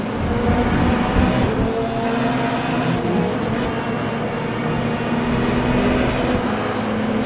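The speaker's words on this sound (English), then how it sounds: "Let's just let all of the LMDHs and LMP2s go past, shall we?" LMDH prototypes and LMP2 race cars in Le Mans Ultimate sim racing, a dense sustained roar of engines and road noise at steady loudness with cars streaming past.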